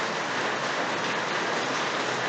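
Light drizzle falling steadily near a port facility under overcast skies, a dense, even hiss of fine rain that holds at one level throughout, with no voices.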